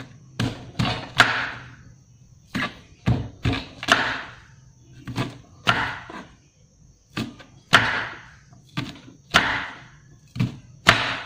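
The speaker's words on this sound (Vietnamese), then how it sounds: "Cái bắp này thì mình sẽ cắt thành khoanh nha" A thin kitchen knife chops a corn cob into rounds about 2 cm thick. Sharp, close thuds come in irregular pairs and bursts against the cutting board, separated by brief silences.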